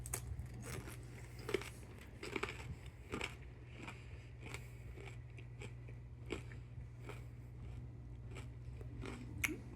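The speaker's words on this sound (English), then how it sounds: "Really satisfying crunch." Crisp close crunches of a peanut butter filled pretzel nugget being bitten and chewed, sharp cracks repeating irregularly over soft chewing, with no talking.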